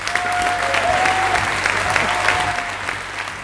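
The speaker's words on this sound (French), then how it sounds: "Vous pouvez l'applaudir" Steady applause from an audience at the Gérardmer Film Festival closing ceremony, many hands clapping together at an even level, with a faint tonal hum running underneath.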